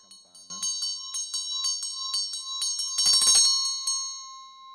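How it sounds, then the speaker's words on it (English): Small hand bell rung during Buddhist preparatory offerings, a rapid series of bright, ringing strikes with a sustained metallic tone, close and clear with no speech. "you can play the tamar, the tamburo or the bell with the right hand"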